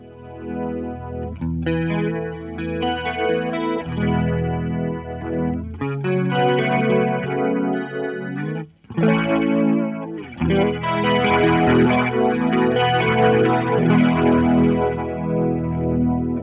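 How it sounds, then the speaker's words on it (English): Electric guitar through chorus and flanger pedal effects with a bit of drive, sustained chords swirling and shimmering, a brief pause midway before strumming resumes; no voices. "You've got the chorus here, or chorus and flanger. Is what that sounds like."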